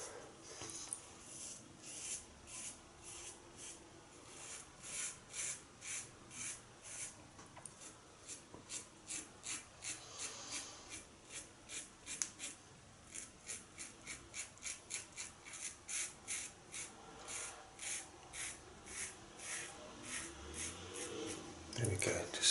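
A seven-day-old razor blade shaves through Albion shave soap lather, close and quiet with rhythmic rasping strokes repeating steadily throughout.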